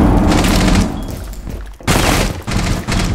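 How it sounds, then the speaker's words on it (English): A flashbang grenade blasts in a Rainbow Six Siege match, a loud broadband boom followed by a brief drop and then another burst of loud noise, with no talking. "Okay, flashbang."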